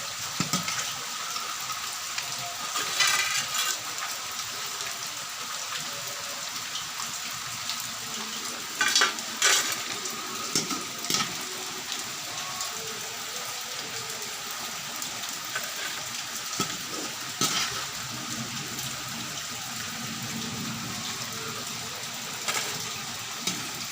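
Valuthanangai (raw banana) pieces frying crisp in hot oil for Tamil-style variety rice, a steady sizzle and bubbling with occasional stirring clinks, close and continuous without speech.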